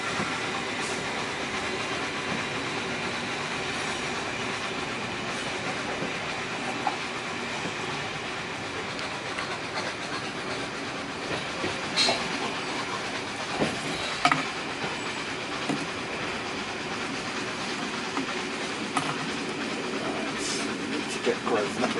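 The Clan Line steam train runs along the rails, a steady rumbling rolling noise with occasional clicks and clatter from the wheels over the track throughout.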